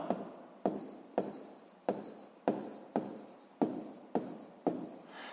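A pen writes a math solution by hand, about nine short, scratchy strokes in a steady rhythm, close and quiet, with no talking.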